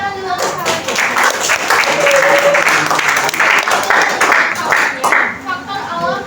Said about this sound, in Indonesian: tepuk tangan dulu untuk kawannya